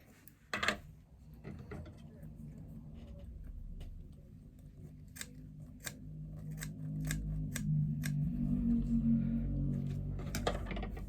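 Scissors snipping foam out of a fabric seam allowance on a lining bag, sharp close cuts coming singly and in quick runs over soft rustling of material.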